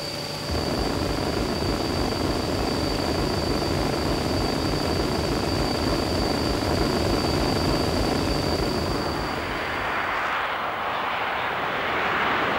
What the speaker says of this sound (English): this lovely little lightweight fighter, which comes from a fine pedigree. Built by a consortium of Swedish industries, including Saab and Volvo